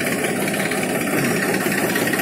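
A cold 1999 Mahindra 265 DI tractor idles close by, a loud, steady diesel rumble with an even low throb and no change in pace, and no voices.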